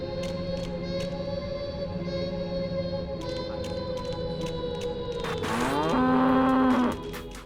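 Cows mooing inside the test chambers of the video game Goat Simulator, a few long low moos over a steady electronic hum, with the loudest drawn-out moo near the end.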